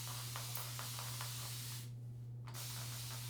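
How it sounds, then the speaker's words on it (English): A continuous-spray bottle mists water onto wavy type 1C/2A hair in a steady, soft hiss, broken by one brief pause before the spraying resumes. "So I'm using a continuous spray bottle, which just makes it easier to get it wet."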